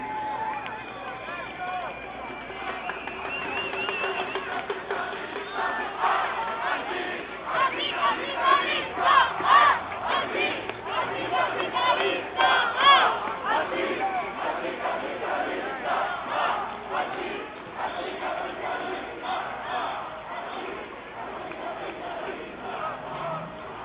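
A protest crowd of several hundred to a thousand people at the Copenhagen climate change conference chants and shouts in rhythmic bursts, loud and sustained from a close distance, with voices rising and falling throughout.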